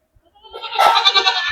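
A goat bleats once, a single close, loud, wavering call that swells up and holds to the end.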